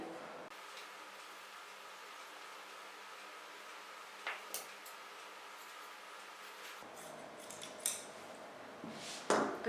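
Scissors cutting kurti fabric panels, heard as a few faint, sparse snips against a quiet background, with a couple of sharper clicks near the end.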